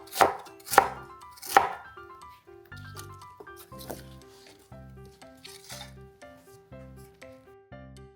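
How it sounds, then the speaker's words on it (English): A knife chops a peeled, cored pear on a cutting board for a galbi-jjim marinade, with three sharp, loud strikes at the start followed by a quicker, lighter run of rhythmic cuts. "Peel the pear, cut out the core and seeds, chop it a little smaller."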